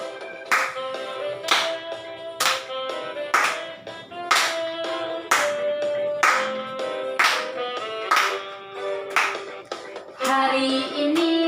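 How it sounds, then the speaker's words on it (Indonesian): Children at a Sunday school worship service clapping hands together in a steady rhythm of roughly one clap per second, loud and close, with a sung melody running underneath. "tepuk tangan ya"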